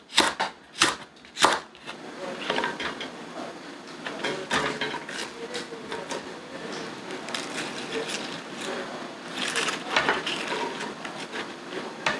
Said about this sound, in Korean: 홍고추 하나 썰어주시면 되겠습니다. 어슷어슷 썰어주세요.